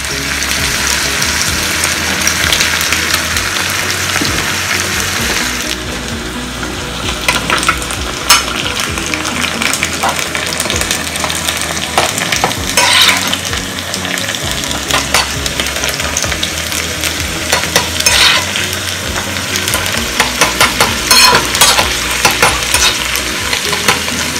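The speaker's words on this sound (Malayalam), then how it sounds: "ഇതിലേക്ക് നമുക്ക് ചുവന്നുള്ളി അരിഞ്ഞതും വേപ്പിലയും കൂട്ടിട്ട് കൊടുക്കാം കേട്ടോ." Chopped shallots and curry leaves fry in hot oil for a bilimbi curry, giving a loud, steady, close sizzle and crackle throughout, with occasional stirring scrapes and no talk.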